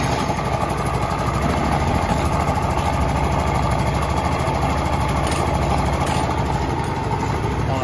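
A Yamaha Nouvo 4 scooter engine idles steadily and fairly quietly at close range, an even, unbroken mechanical hum with no revving for about eight seconds.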